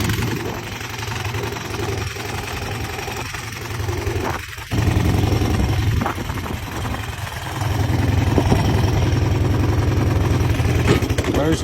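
An old Honda three-wheeler, left outside for years, cranks and runs with a steady low engine drone that surges louder midway and again near the end, with people talking over it.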